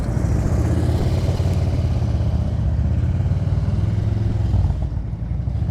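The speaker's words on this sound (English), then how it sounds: "I'm just listening to his engine." A motorcycle engine runs steadily at slow riding speed during an advanced low-speed riding practice session in Illinois, a loud, close, continuous mechanical rumble with a slight drop in level near the end.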